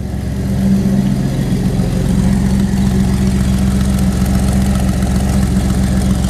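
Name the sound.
car engine idling with custom turbo-style exhaust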